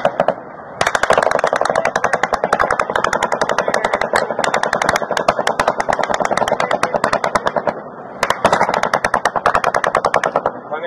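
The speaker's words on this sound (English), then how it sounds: "Fully automatic fire from an elevated position." Fully automatic gunfire from an elevated position, captured on a police body camera during an active shooter encounter: a loud, unbroken stream of rapid, evenly spaced shots lasting about ten seconds, with one brief break.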